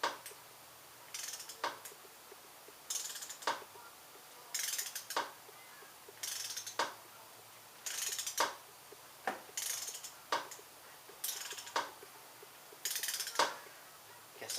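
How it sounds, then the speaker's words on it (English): A ratchet wrench tightens the 6mm upper triple clamp pinch bolts on the fork of a 1996 Yamaha YZF600 motorcycle, giving about ten short bursts of rapid clicking at a steady rhythm, close and fairly quiet, with no talk. "Guess I should have used a regular ratchet first."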